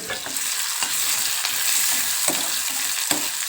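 Onion sizzles steadily in a hot pan, a dense bright frying hiss broken by occasional soft stirring clicks, close and alone with no talk.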